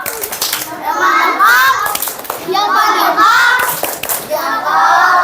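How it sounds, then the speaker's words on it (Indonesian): Schoolchildren in a nutrition lesson clap together in short rhythmic bursts for a thumb clap, loud and close, with children's voices and chatter mixed between the claps. "Hebat semuanya. Tepuk jempol."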